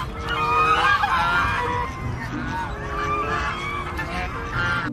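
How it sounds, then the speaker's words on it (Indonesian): A toy goose gives a series of loud, nasal honks that repeat across the whole stretch, close and steady, with no talk over them. "Angsa."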